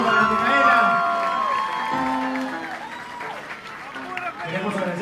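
Concert crowd at a band's New Year show applauding and cheering for new member Micaela, a loud continuous wash of clapping and shouts with a voice talking over it.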